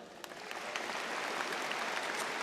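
Audience applause fills a Penn High School commencement hall in 2024, a dense, steady wash of many hands clapping that holds at an even level throughout.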